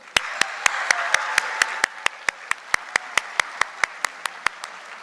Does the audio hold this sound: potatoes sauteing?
no